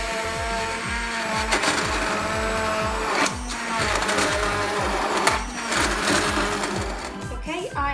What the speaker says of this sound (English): So here I have my blender, and I'm going to put it at full power so that way it's easier to mix it